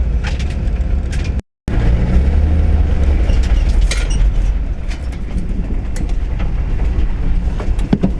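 A 1977 Toyota Celica rumbles steadily through a corner, its loud, continuous engine and road noise broken only by a brief dropout near the start, with scattered rattles and clunks from the car over the drive.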